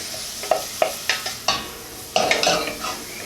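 Corn chowder vegetables sweat in a pot while a spoon stirs them: irregular scraping knocks and clinks of the spoon over a soft, steady sizzle, close by with no voices.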